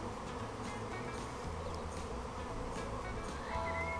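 Honey bees hum around an open beehive during queen rearing, a dense steady buzz of many insects close by with individual wingbeats rising and fading, continuous and without talk.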